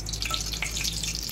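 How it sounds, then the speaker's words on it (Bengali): Two cardamom pods and two bay leaves fry in hot oil, a steady, close hiss of sizzling with no pauses. "তেলটা যখন গরম হয়ে এলো তখন দিয়ে দিলাম 2টো এলাচ আর 2টো তেজপাতা দিয়ে আমি ভালো করে ভেজে নিচ্ছি"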